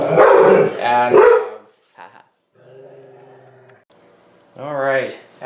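Dogs bark and growl loudly at the start, then whine faintly in the middle before another close bark near the end, mixed with a person speaking.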